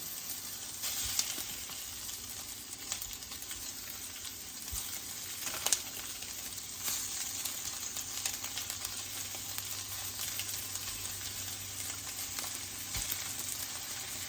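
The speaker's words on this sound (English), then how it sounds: "now I'm just going to crumble that sausage into the pan here" Crumbled sausage sizzles steadily in a pan with onions, a continuous close frying hiss with faint scraping and occasional utensil clicks as it is stirred, no voices.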